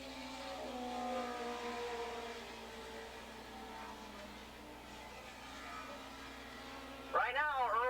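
Racing motorcycles in a 600 Modified Production race at Willow Springs Raceway drone in the distance under a commentator's steady talk, and a loud rising engine pass roars in at the end.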